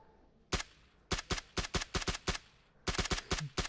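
Gunfire in the battle-royale video game PUBG: a lone shot, then a rapid string of sharp, loud cracks in two bursts with a short pause between them.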